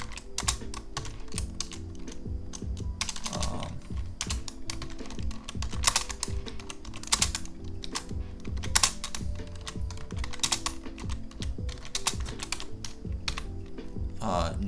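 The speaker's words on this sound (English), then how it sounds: "I should type up here." Rapid typing on a computer keyboard fills the stretch with dense, irregular clicking bursts and brief pauses, close and fairly loud, with no speech.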